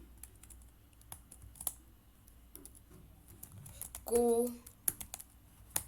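Keys clatter in scattered clicks as Python code is typed on a computer keyboard, faint and close, with a brief spoken word cutting in near the end.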